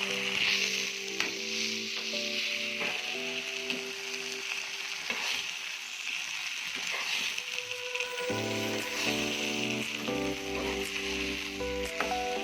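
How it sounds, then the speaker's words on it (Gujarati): Corn kernels are tipped into a hot pan and stir-fried for Schezwan fried rice, with a steady close sizzle and frying crackle running throughout, while a spoon stirs and scrapes the pan now and then and music plays underneath. "હવે આમાં આપણે મકાઈના દાણા છે એને પણ આમાં એડ કરી દઈશું."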